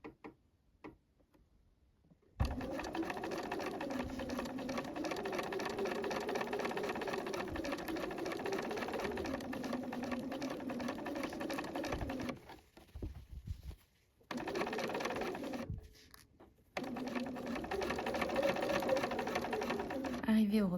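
A sewing machine stitches fabric in long, steady runs of rapid mechanical whirring and ticking, close by, pausing briefly twice before starting again, with a quiet lead-in before the first run.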